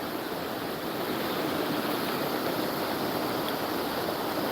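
The Salmon River current near Pulaski, New York, rushes in a steady, even broadband hiss of flowing water, continuous and moderately close, with no voices over it.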